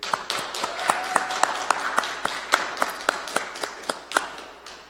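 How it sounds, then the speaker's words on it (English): A small lecture audience gives a lecturer a light, scattered round of applause: a handful of distinct nearby claps in an uneven rhythm, fairly sparse throughout. "Please, again, join me with a warm round of applause for Dr."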